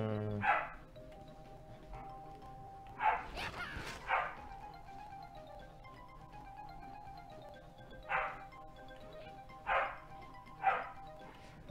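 A dog barking in separate short bursts, about six barks spread irregularly across the clip, fairly distant and moderately loud over a steady background hum, with a brief clatter between them.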